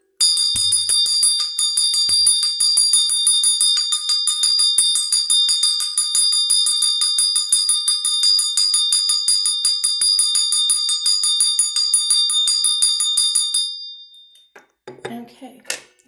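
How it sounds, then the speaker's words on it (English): A bell rings for a long stretch, a bright metallic tone with a fast, continuous shimmering rattle, loud and close, then cuts off and leaves a few faint clinks and rustles. "I'm gonna go ahead, ring the bell."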